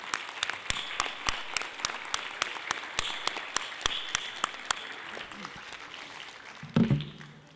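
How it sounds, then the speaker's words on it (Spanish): Audience applause at a university event on AI in research and learning, a steady run of sharp claps fading out over several seconds, with a brief low thump near the end. "darles un aplauso por este gran inicio"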